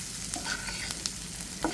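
Hilsa fish pieces with garlic stirred in a hot frying pan, a steady soft sizzle broken by a few sharp spatula scrapes and clicks, close and alone with no voices.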